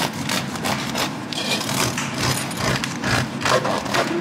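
Steady rasping strokes of a serrated knife sawing back and forth through firm food, close up, with no talking.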